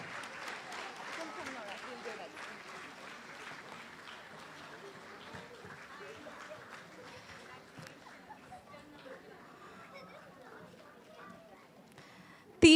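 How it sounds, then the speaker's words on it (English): An audience claps at a school annual day, a moderate round of applause that gradually thins and fades over several seconds, with a voice speaking over it and a brief loud burst at the very end. "bigger round of applause, please"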